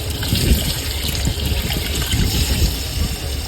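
Water boils hard in a cooking pot aboard a Porbandar fishing boat, a steady close, loud bubbling roar that holds unbroken throughout.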